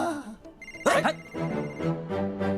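A telephone rings in a Hindi action drama film set around 1947, giving a fairly loud, tonal, melodic ring that repeats in bursts, with a sharper noisy burst partway through.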